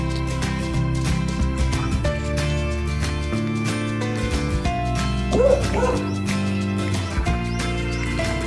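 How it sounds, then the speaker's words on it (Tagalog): A dog barks a few times outdoors on a residential street with houses and flowers, yips mixed into steady background music, no talk. "May aso."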